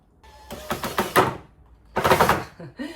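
Two bursts of a power drill with a poor-quality bit boring through wood, rough and rattling, separated by a short pause, close up.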